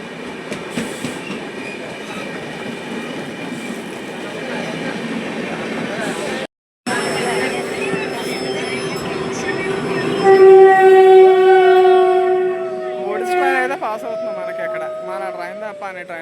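A Tirumala Express passenger train rumbles steadily along the rails between Rajahmundry and Visakhapatnam, then a loud, sustained horn blares with squealing wheel tones near the end, with faint voices in the background.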